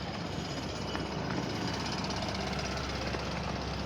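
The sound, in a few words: construction site noise, jackhammer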